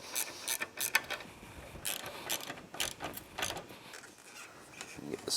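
Clamp being tightened onto a hose on a Polaris RZR engine during installation, with a run of quick ratcheting clicks in short bursts, close and moderately loud, under some background speech.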